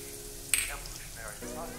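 Crushed garlic hits hot oil in a pan while a mixed vegetable bhaji is being cooked. A sharp burst of sizzling quickly fades into a soft, steady crackle.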